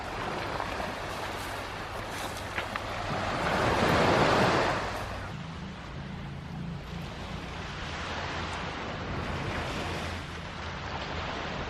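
Waves breaking on a quiet beach with wind, a continuous wash of surf that swells into a louder crash midway and then settles back into steady rushing, with wind buffeting the microphone.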